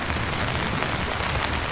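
Heavy rain pours steadily on outdoor surfaces in the United States, a dense, continuous wash of drops with no voices and no breaks.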